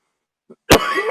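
A soft faint sound followed by a single loud, harsh cough up close, with a raspy tail trailing off.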